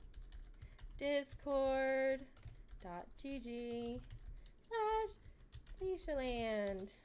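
Keys clatter on a computer keyboard during a livestreamed makeup session, with soft, quick clicks sitting underneath a woman's close, steady talking.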